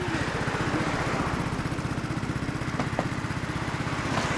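Yamaha BW'S 125 scooter (YW125F) fitted with a BMS-R exhaust idling nearby, a steady low throbbing putter with constant rapid pulses and no talking over it.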